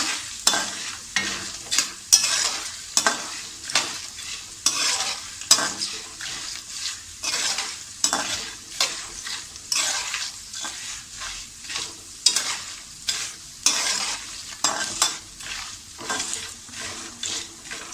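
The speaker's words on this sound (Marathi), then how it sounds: "थोडासा हिंग टाकूया। खोबरं परतून घेऊया।" Grated coconut being stirred and roasted with asafoetida in a pan, a steady run of scraping, clinking stirs over a continuous dry sizzle, close and fairly loud, no voices.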